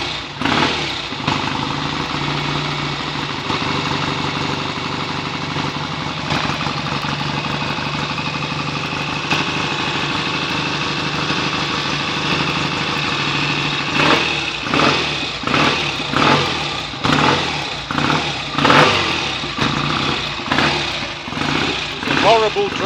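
A rebuilt BSA A65 motorcycle engine runs steadily at idle throughout, with sharper blips of revving toward the end, while someone talks over it.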